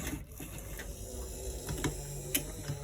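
A sewing machine stitches a straight seam along a short sleeve, giving a continuous mechanical whir with faint ticking and small clicks at moderate level, no talk.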